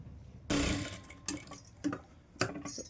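Sewing machine stitching a hook strip onto a katori blouse, heard as three or four short bursts of whirring separated by pauses, fairly close and fairly quiet.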